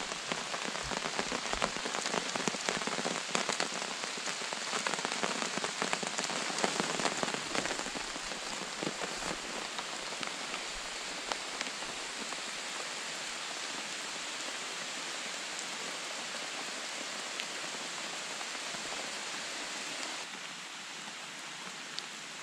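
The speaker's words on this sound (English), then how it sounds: "Looks like it's gonna be a rain day." Rain falls steadily on a lake shore and a tarp, a dense, even hiss of drops that stays constant throughout and thins slightly near the end, with no voices.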